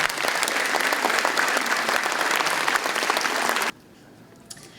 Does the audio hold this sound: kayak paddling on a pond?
no